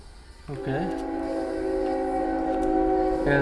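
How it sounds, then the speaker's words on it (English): A passing train blasts a long, loud, sustained horn chord. It starts suddenly and holds steadily for several seconds, close and dominant over a low rumble. "sorry about the train"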